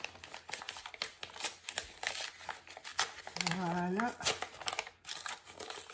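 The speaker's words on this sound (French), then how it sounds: "je vais ouvrir l'enveloppe" A paper envelope torn open by hand, crinkling and ripping in short bursts close by, with a person talking over it.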